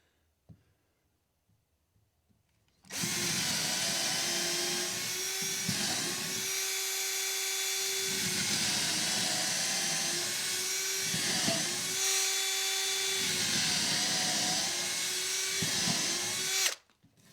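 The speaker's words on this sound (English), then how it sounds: "I'm going to drill 3 pilot holes because these are large lags" A power drill whines steadily for about fourteen seconds, close and loud, drilling pilot holes for large lag screws, its pitch dipping briefly a few times as it bites, then stops.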